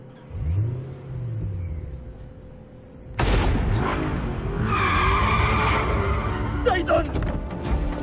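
A gunshot in the PS4 racing game The Crew on an abandoned street with two cars: a low engine hum, then an abrupt loud crack giving way to roaring engines and screeching tires.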